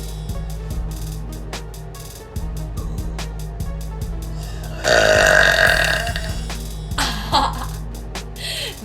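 A girl lets out a burp up close, a low rumbling belch with a raspy rise in the middle, fairly loud over faint background hum, with no talking.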